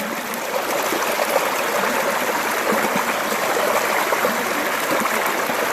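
Water runs steadily through a gold-panning sluice box set in a stream on the San Gabriel East Fork at Heaton Flats, a close, constant trickling rush with no voices.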